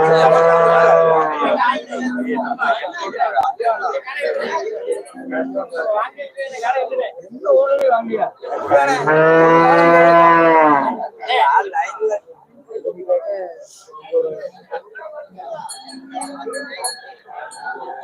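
Cattle lowing at the Melapalayam cattle market, several long, loud moos, one especially drawn out, rising over busy crowd chatter and occasional clinks, with people talking throughout.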